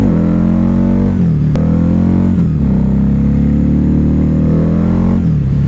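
Harley-Davidson V-Rod motorcycle engine under way, a loud, close, steady drone with pitch rising and falling through gear changes and rev swells, and no voices.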